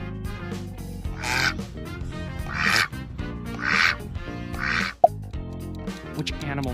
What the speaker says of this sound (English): Yes, that is duck.